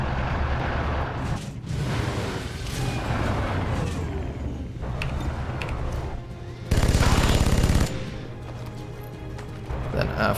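Rapid gunfire in a video game aimed at a biotrooper, dense bursts layered over a busy mix of game effects, with one louder sustained volley standing out near the end.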